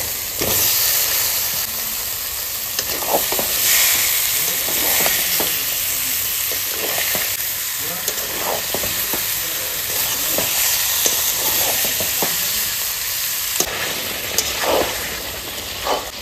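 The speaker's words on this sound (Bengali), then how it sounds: "এবার মশলায় তেল ছাড়ে দিতে, এবার আমি মাংসটা দিয়ে দেবো। এবার দিয়ে দেবো চিকেনটা।" Chicken pieces fry in hot oil with turmeric and spices, giving a continuous loud sizzle and hiss broken by occasional stirring scrapes, with no talking.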